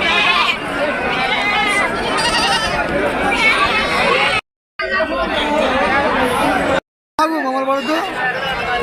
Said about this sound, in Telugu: చూడొచ్చు మంచి మంచి మేకలు